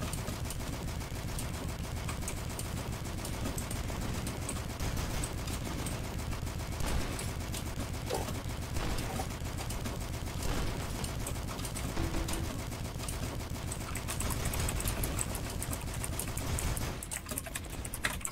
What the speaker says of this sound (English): I'm just gonna waste all my LMG on him.